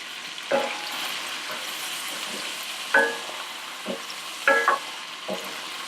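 Aromatics sauté in a pan for cherry tomato pasta under a soft, steady sizzle, punctuated by several spatula scrapes and stirs at irregular intervals.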